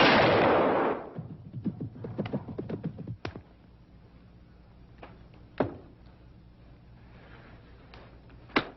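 A rifle shot fired during a hunt booms loudly at the start and rolls out over about a second. Softer thumps and knocks follow in a quiet outdoor setting.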